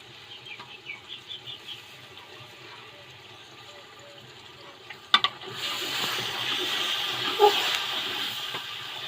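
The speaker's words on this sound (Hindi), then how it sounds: "अभी तकरीबन 2 कप इसमें पानी डालेंगे ताकि प्याज और टमाटर जो है वो अच्छी तरह से गल जाएं।" About two cups of water are poured into a pan of onions and tomatoes for a dhaba-style tomato chicken masala, a steady hissing splash starting abruptly partway through after quieter cooking sounds and continuing to the end.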